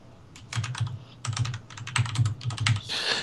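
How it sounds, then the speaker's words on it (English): Rapid bursts of typing on a computer keyboard during a tabletop Warhammer Fantasy role-playing session, with irregular clusters of key clicks separated by short pauses, moderately close and heard alone without talk. "Who the fuck that's is like typing code over there?"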